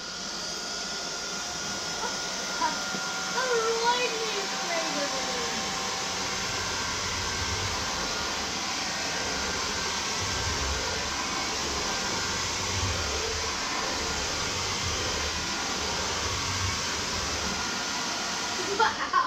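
A Xiaomi cordless stick vacuum cleaner runs steadily through the whole stretch, a constant broadband whoosh with a motor whine and faint shifting tones as it sucks up a clump of spread-out dirt.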